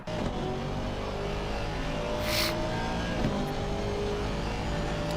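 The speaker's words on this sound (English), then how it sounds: "let's go on board with the Aston because it's a really good sounding car" Onboard engine sound of an Aston Martin GT race car at Zolder, a steady loud drone held throughout with slight rises in pitch, plus a brief hiss of wind or flapping bodywork midway.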